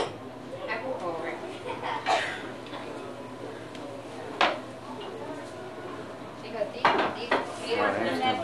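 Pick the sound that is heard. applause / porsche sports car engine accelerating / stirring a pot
stirring a pot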